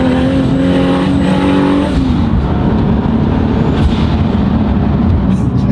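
An 800-horsepower SR20DET-powered road car revs hard and accelerates with heavy wheelspin, a loud, close engine roar climbing in pitch, then a dense, rough drone of spinning tyres without let-up.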